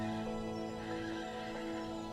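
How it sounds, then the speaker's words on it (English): Wild horses on open Hungarian grassland neigh in a steady, full whinny that fills the moment, with a faint hint of hooves. "Wild horses gallop freely across the grasslands."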